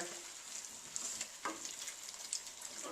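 Lamb curry with spinach and spices sizzles steadily in a hot pan as it is stirred, with a few soft scraping knocks from the spoon; close and fairly quiet, no voices.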